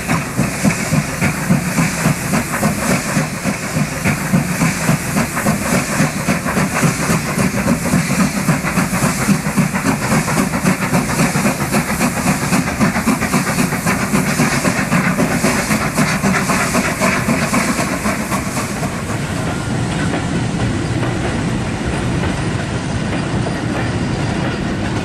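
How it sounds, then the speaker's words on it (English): A steam freight train passes a locomotive shed at Edgeley, Stockport, in 1967: loud, steady rumbling, hissing steam and rapid clickety-clack of wagons for about twenty seconds, then easing slightly toward the end, with no voices. "freight trains were passing the shed at regular intervals"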